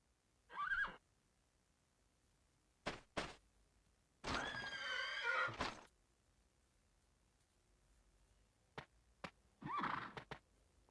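A horse in the Dragon Quest 8 video game gives several loud whinnies and neighs, one long, with short thuds between them against near silence.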